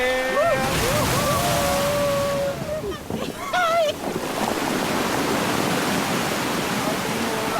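Rushing ocean waves, a loud continuous roar of surf close by, with excited voices shouting and whooping over it.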